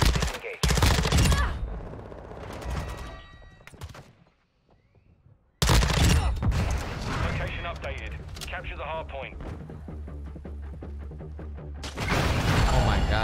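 Loud video game gunfire from an SMG built into an assault rifle, shooting through a wall. Rapid bursts drop into a brief near-silence, then resume at full force, with a voice talking over them.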